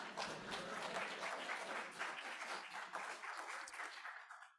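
An audience at a nature talk about oak trees gives a steady round of applause, dense and even, before it quickly fades out at the end.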